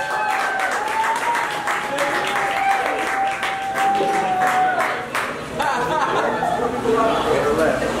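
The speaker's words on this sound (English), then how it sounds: "Round of applause." Audience at a taco eating contest with a comedy show claps and cheers in a steady wash of applause, loud and close, mixed with chatter, laughter and someone talking over the crowd.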